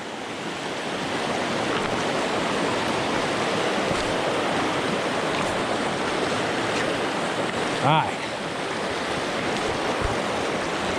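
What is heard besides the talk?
river rapids flowing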